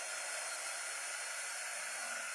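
Hair dryer blowing on a DIY holiday house craft, a steady hissing airflow roar held constant throughout, fairly quiet and with no talk.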